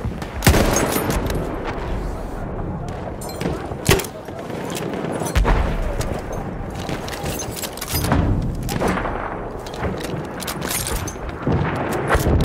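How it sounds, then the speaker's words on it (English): Machine gun fire in a chaotic Battlefield 1 conquest battle on the Suez map. A loud, continuous barrage of rattling shots is punctuated by sharp cracks and heavy booms throughout. "Machine gun over there."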